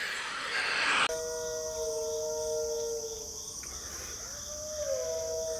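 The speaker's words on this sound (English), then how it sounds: "Those dogs don't like sirens." Dogs howling at sirens: sustained wailing tones rise and hold over a steady background hum, a siren-like howl that fades and returns, with no talking.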